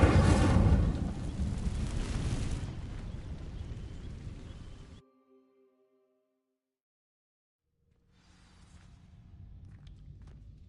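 A fire spell ignites dry vines in Hogwarts Legacy, starting with a loud, broad roaring burst that crackles and fades over several seconds, then near silence with a faint lingering tone before low ambient rumble returns.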